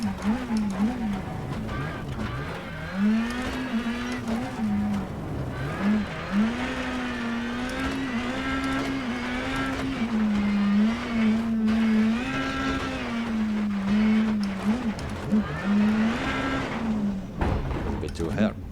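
A rally car in the racing game WRC 10 drives and drifts, its engine droning steadily with rising and falling revs and surging tire and gravel noise, while someone talks over it throughout.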